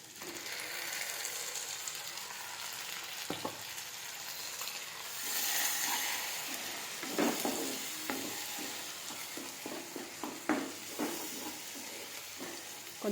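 A ground paste of roasted onion, tomato, green chilli, coconut and poppy seeds fries in a pan for an egg curry, a soft steady sizzle broken by scraping stirs with a spoon.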